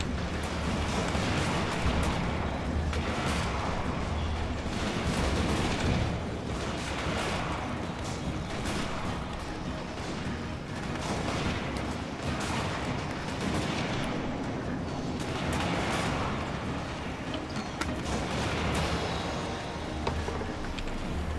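Continuous artillery and gunfire in the fantasy strategy game Total War: Warhammer, a dense battle roar of overlapping shots and booms that runs steadily and loudly from start to finish without talk.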